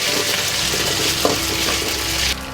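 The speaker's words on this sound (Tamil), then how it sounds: "சிக்கனை சேர்த்து சிக்கன் நல்லா வேகிற அளவுக்கு நம்ம ஃப்ரை பண்ணிக்கலாம்" Chicken pieces frying in hot oil for chicken fried rice give a loud, steady, dense sizzle that holds throughout and drops slightly in level near the end, with no voices.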